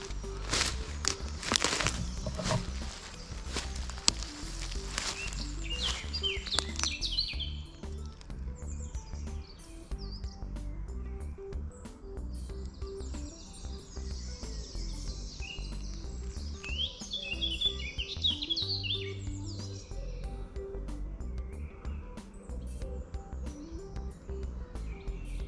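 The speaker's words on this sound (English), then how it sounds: "Little birds singing to keep us company." Small birds singing in a bluebell wood at Stoke Wood near Chichester, scattered chirps and short song phrases near and far over quiet woodland ambience, with some rustling and footsteps early on.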